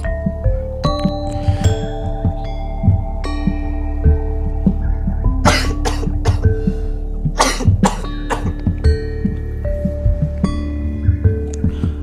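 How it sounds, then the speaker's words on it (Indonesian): A few close coughs break out over a steady music bed with chimes, short harsh bursts spaced apart, no speech. "Sorry sahabat, jadi batuk."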